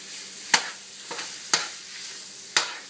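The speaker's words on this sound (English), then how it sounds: "So I'm just going to stir this up and chop this up." Spoon scraping and chopping ground beef in a hot pan for a meat pasta sauce, three sharp clanks about a second apart with a softer scrape between, over a steady close sizzle.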